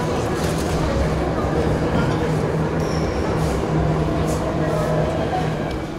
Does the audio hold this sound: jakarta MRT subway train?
yes